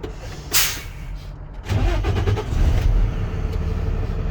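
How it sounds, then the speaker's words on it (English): A truck's engine cranks and starts: a broadband burst, then a low rumbling idle settling in with rhythmic ticking, close and steady, no talking. "So let's start up this truck."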